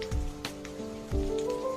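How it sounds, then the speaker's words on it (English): Rain cloud mushroom air humidifier making its dripping rain sound, close patter of drops over a faint steady tonal hum with occasional louder splashes. "Single press rain button to adjust rain volume."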